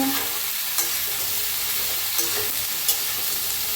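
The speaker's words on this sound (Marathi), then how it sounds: "तर छान असं मिक्स करत भाजून घेऊया आपण" Jackfruit vegetable is stir-fried in a pan, giving a steady, close sizzle with a few soft scrapes and clinks of stirring.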